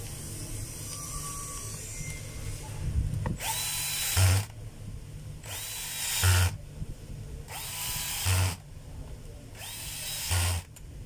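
A cordless power tool whirs in four short, even bursts, tightening a part on a DeWalt D25811 rotary hammer, each burst ending with a brief low thud.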